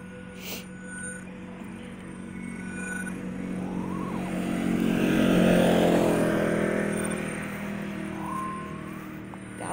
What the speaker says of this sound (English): That was a loud car.